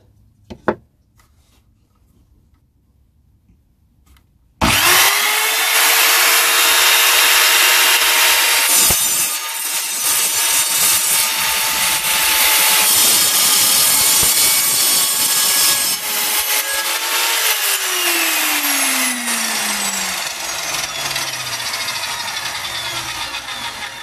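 After a few seconds of quiet and a click, a sliding mitre saw spins up with a loud whine and grinds steadily through wood with screws in it for nearly twenty seconds, then winds down.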